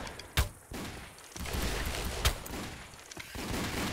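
Gunfire in a Roblox Wild West shooter game: a few sharp shots ring out amid a dense, rumbling battle din, with bursts near the start and middle over continuous noisy background.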